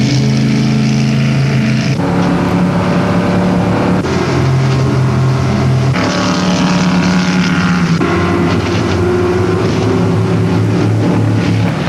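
Blue Thunder high-speed catamaran powerboat, built to chase drug smugglers off the Florida coast, with a loud continuous engine roar whose pitch shifts in steps every couple of seconds as the throttle changes.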